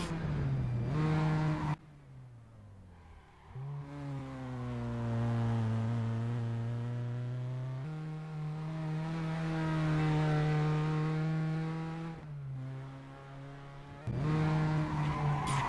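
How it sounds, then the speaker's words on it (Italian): Engine of an Abarth 500 Assetto Corsa in the netKar Pro racing simulator on the Crema circuit: a buzzy, steady drone that rises in pitch through each gear, with sudden drops at the shifts and a cruise in fifth gear. "Adesso sto andando di quinta e vedete che la macchina recupera bene"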